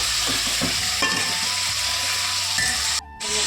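Ginger-garlic paste with salt and turmeric frying in a home-kitchen pan for a festival meal: a steady, close, loud sizzle with soft stirring scrapes throughout and a brief dip partway through near the end.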